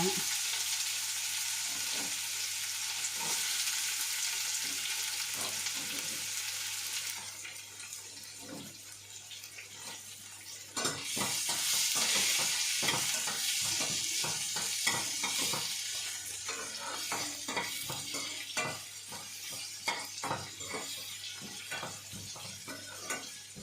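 Onions frying in a pan for a mixed-vegetable chutney, a steady close sizzle with repeated stirring scrapes, growing louder and more crackly halfway through.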